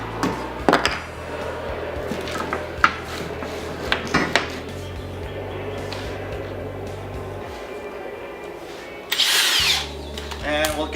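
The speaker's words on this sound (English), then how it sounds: "we're going to tap an 832 screw into these holes" A power drill taps 8-32 screw threads into a metal pocket door track, whirring in short bursts broken by clicks and metallic clatter, with a steady motor hum and a louder spin near the end.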